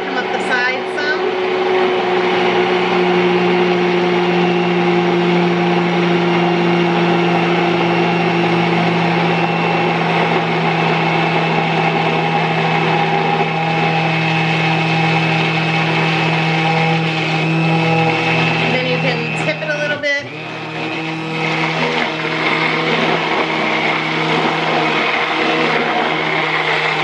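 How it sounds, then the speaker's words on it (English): An immersion blender whirs steadily in homemade mayonnaise, a loud continuous motor hum that holds for nearly half a minute, with a brief dip and clatter near the end. "Push on your immersion blender. We're gonna let it thicken and start to come up the side some."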